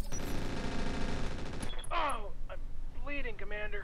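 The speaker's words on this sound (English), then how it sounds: "that was a machine gun though" Dense machine gun fire rattles continuously for about a second and a half in the mech combat game Roguetech, then gives way to scattered mechanical clanks and groaning, warbling tones from the game.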